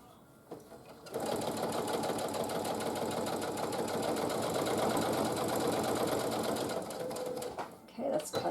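A sewing machine runs steadily at close range, stitching layers of a quilt-as-you-go table runner in one continuous seven-second burst before slowing to a stop.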